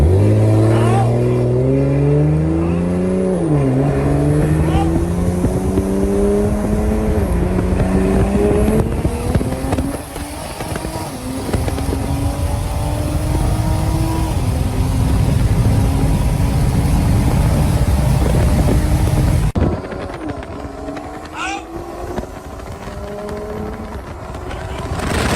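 A Toyota Supra and a Tesla Plaid race from a launch. Loud engine revving climbs in pitch through several gear shifts with a dip between them, then cuts off sharply and leaves quieter road and wind noise.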